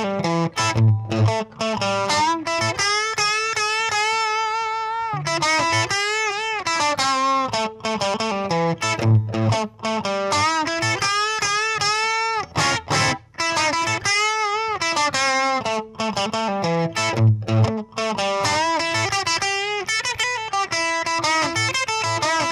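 An expensive electric guitar played through a cheap amplifier with distortion, sustained chords and melodic lines ringing continuously and loudly with no talking.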